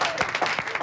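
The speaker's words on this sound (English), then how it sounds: "Give yourselves a clap." A class of students clapping for themselves in a TV drama scene, a short burst of a few hands clapping together at close range.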